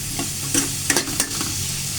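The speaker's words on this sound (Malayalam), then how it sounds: "ആ ഇഞ്ചിയും വെളുത്തുള്ളിയും ചതച്ചതൊന്നും ഇട്ട് അത് നല്ലോണം ഒന്ന് മൂക്കട്ടെ." Crushed ginger and garlic frying in a pan, a steady sizzle broken by a few quick scraping stirs, close and clear with no talking.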